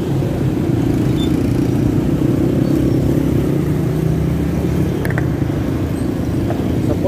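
Continuous road traffic noise heard while riding locally near a bridge, a steady low engine rumble and whir of passing cars and motorcycles, close and unbroken with no talk.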